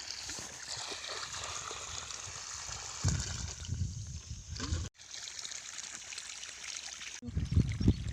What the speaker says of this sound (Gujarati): ખેતરમાં પાણી ચાલુ છે